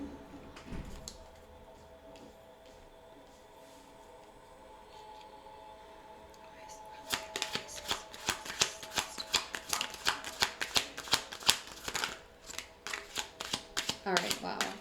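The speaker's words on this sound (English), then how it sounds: "a lot of cards just fell" A large pile of tarot cards spilling and slapping down, a rapid run of crisp card flicks and taps lasting several seconds after a quiet stretch, close and fairly loud.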